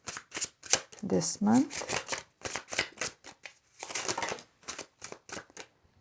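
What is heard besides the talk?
shuffling tarot cards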